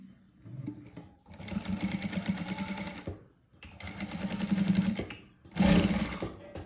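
A sewing machine stitching the belt of an A-line frock runs in three bursts of fast, steady mechanical whirring, each a second or two long, separated by short pauses.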